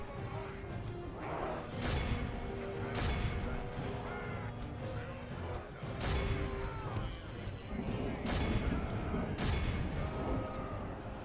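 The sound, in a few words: troops firing at will in Divide and Conquer video game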